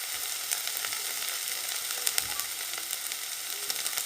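Ginger-garlic paste being sautéed in a spice masala in a pan, a constant close hiss of sizzling with faint scattered ticks of a spoon, no voices.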